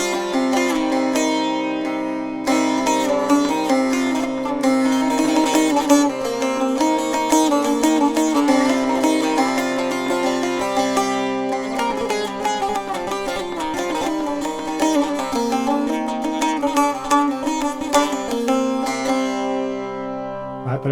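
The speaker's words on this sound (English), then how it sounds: "here is this Baglama saz. Even a short-necked one will differ from a long-necked one." A short-necked Baglama saz plays a continuous plucked melody, bright metallic strings ringing with rapid strummed and picked notes, close and solo, pausing briefly near the start.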